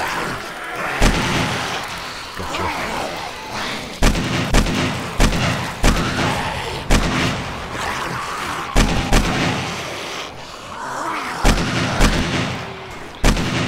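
Heavy gunfire in the Killing Floor video game, a steady series of loud, sharp single shots spaced about a second apart, each with a booming low thud, over faint background game noise and no talk.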